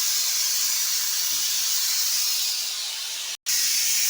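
Mustard seeds and cumin sizzle in hot oil in a home kitchen, a loud, steady, close hiss that runs continuously, with a brief cut near the end before the sizzle resumes.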